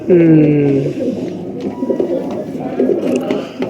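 A Faqeer Gul pigeon with pink markings gives a short burst of soft cooing, mixed with a voice at the start, followed by quieter rustling and faint calls.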